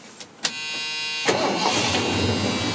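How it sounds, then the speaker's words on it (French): A 1977 Ford F250 Camper Special engine cranks briefly and fires up, settling into a steady, close idle after a couple of small clicks. "on va le mettre en marche, dernière chose, comme ça, vous l'entendrez tourner"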